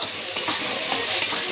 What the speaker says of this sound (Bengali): এই যে টমেটো দিয়ে পেঁয়াজটাকে আরও ভাজা ভাজা করে নিলাম।